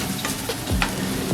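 Sausage and onions fry in a cast iron pan with a steady sizzle, close and clear, broken by a few soft scrapes and stirring knocks.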